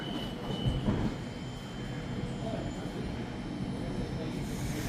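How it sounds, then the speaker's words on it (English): A Sydney Metro train pulls into a station platform with a steady, loud, broadband rumble that holds evenly for the whole stretch, with a faint high whine above it. "these automatic doors will open when the train comes through"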